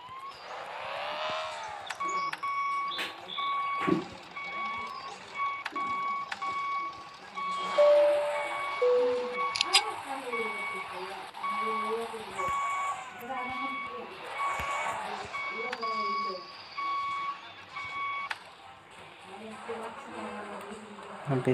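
A reversing vehicle in a police car driving video game gives off steady, evenly spaced electronic beeps for most of the stretch, with someone talking over them throughout.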